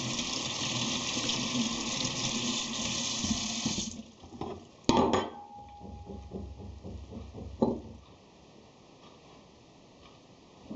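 Tap water gushes into a kitchen sink as fresh ginger root is rinsed, a steady rushing stream that stops partway, followed by light clicks and knocks of handling near the basin.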